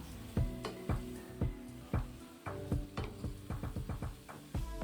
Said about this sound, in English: Stir it well until all the mushrooms are coated with the masala.